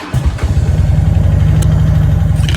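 Harley-Davidson Road King police motorcycle engine catching and settling into a loud, close, steady rhythmic idle with a deep, even pulsing throb.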